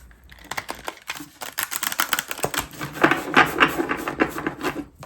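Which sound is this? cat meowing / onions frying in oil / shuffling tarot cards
shuffling tarot cards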